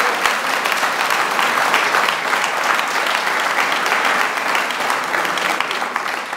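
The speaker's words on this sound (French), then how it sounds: "je vous souhaite de l'applaudir" A political gathering's audience gives sustained, even applause for the president of the Brittany region, a dense wash of clapping that holds loud and steady and eases slightly at the end.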